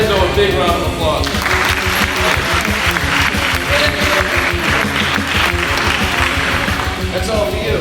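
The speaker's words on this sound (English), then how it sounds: "everybody give Enzo a big round of applause" Audience applause for Enzo at a high school Junior Achievers talk, loud dense clapping that runs the full length under a presenter's voice.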